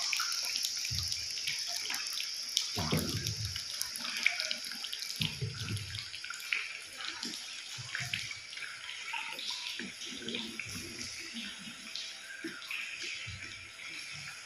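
Water trickles and drips onto rock inside the Palawan underground river cave, a continuous splashing flow with scattered sharper drip impacts, fairly soft and steady throughout with no voices.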